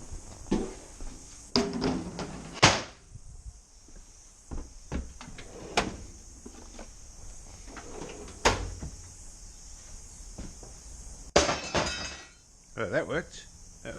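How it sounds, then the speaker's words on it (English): A hammer strikes objects in a series of sharp, irregular knocks and bangs, some louder than others, with quiet pauses between. "we'll hit some stuff with a hammer again, because that's always good fun"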